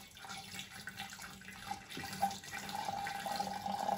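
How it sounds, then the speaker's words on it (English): Cold filtered water pours into a glass kombucha brewing jar, a steady running splash at moderate level that builds and brightens toward the end, heard alone. "Next, we pour in the filtered water."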